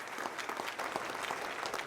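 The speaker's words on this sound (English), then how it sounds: "a big round of applause for all of our Valor recipients" Audience applause fills an awards ceremony honoring Valor recipients, a steady dense clapping from a large crowd throughout, moderately loud with no speech over it.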